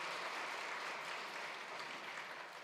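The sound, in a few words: congregation applauding in church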